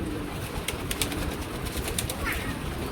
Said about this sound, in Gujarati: સરસ મજાના કબૂતર છે।